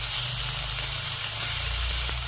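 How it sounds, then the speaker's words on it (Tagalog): Leftover sinigang pork fries in a pan without oil, giving a steady, close, dense sizzle that continues evenly throughout. "Tapos ngayon, ginagawa ko, pinipreto ko."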